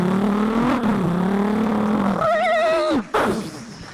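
A voice imitates a Bullet motorbike, holding a rising, revving engine drone for a couple of seconds before breaking into a wavering, skidding screech that cuts off abruptly, loud and close with no other talk.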